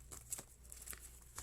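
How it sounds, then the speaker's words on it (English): Oracle cards being shuffled, with soft, close, faint papery pattering and light flicks in quick irregular bursts and no talking. "so I will just shuffle"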